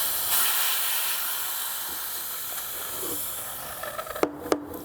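Steam wand on a Lelit Anna 2 espresso machine purging with a steady, loud hiss for several seconds, then a few short sputtering bursts near the end.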